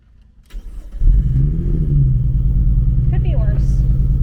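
Lotus Evora with a blown engine running roughly after starting up, a loud, steady low rumble with an uneven, lumpy idle that fills the whole stretch; voices are heard briefly near the end.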